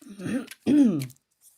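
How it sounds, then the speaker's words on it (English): A woman with a bad night-time cough gives a close, loud throat-clearing cough in two short voiced bursts, then falls quiet. "I'm having a tough night coughing my head off tonight"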